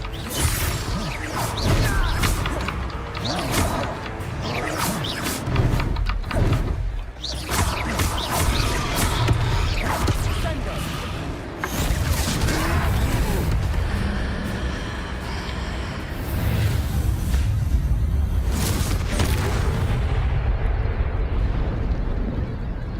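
In the Hogwarts Legacy video game, a Confringo blasting spell bursts loudly into rumbling explosions, crashes and whooshing debris amid a continuous dense battle roar.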